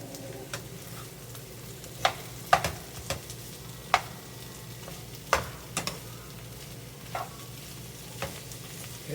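Potatoes with onions and bell pepper fry in a pan for Southern smothered potatoes, a low steady sizzle broken by scattered sharp scrapes and clicks of a spatula stirring, close and moderately quiet.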